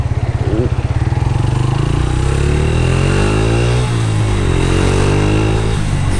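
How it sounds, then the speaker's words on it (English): A Yamaha YBR 125 commuter motorcycle runs at full throttle, its engine droning loud and close throughout, pitch rising steadily as it accelerates, with a brief dip near the middle before climbing again. "You're just constantly at full throttle with this bike"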